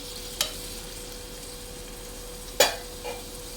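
Onions frying on a stove for mutton biryani, a low steady sizzle with a couple of sharp clinks of a spoon against the pan, close and fairly quiet with no talking.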